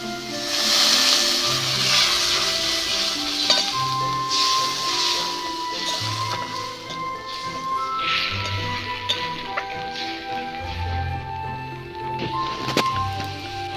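Masala spices sizzle and hiss in a pan while a papaya dish cooks in a village kitchen. The frying sound is steady and close, with faint tonal sounds in the background.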